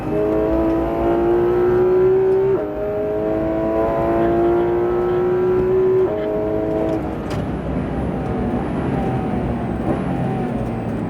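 A Porsche 911 991 GT3 RS accelerates hard on the Lohéac race circuit, its engine note climbing in loud, close pitch sweeps through several gear changes, heard from inside the car without talk.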